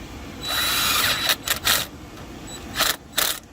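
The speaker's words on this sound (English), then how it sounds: "now I got the drill going the right way" A cordless power drill whirs in a sustained burst, then gives several short bursts, nearby and without speech, while working on a Ford F-150 EcoBoost engine.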